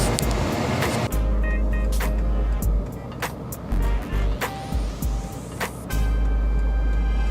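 A car's engine idles close by at an auction lot, a steady low rumble with a few brief louder rises and small knocks and clicks over the top.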